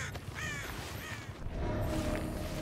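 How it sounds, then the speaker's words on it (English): A crow caws repeatedly in a Wild West saloon map of a multiplayer horror video game, a few harsh calls over a steady low game ambience. "Hey, Mr. Crow."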